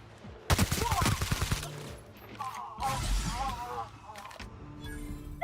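Bursts of gunfire from an ongoing firefight in The Outer Worlds, sharp cracks coming in rapid volleys and clusters at moderate distance, mixed with voices talking and game effects.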